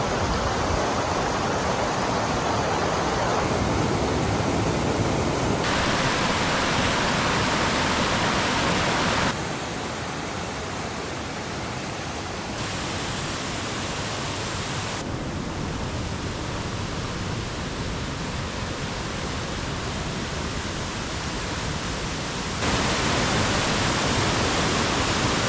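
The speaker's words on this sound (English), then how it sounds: "All right, so we're gonna cross the stream here." A stream rushes steadily across rocks at a crossing on the Waimea Canyon loop trail in Kauai, near a waterfall, as a loud, unbroken broadband hiss filling the whole stretch, with no voices.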